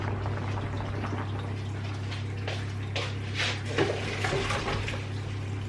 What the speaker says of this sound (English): Okay, our potatoes are ready to be poured out.